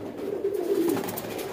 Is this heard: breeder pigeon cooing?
yes